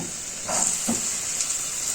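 A steady, loud sizzle of diced carrots and onion frying in a hot pan, with a couple of brief stirring scrapes.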